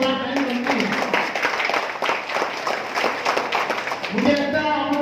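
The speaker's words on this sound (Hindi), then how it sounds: "ताली हल्की थी, जोरदार ताली होनी चाहिए" An audience at a health check-up camp in Champdani, Hooghly district, claps for Khalid Bhai, a light patter of applause under someone speaking over a microphone.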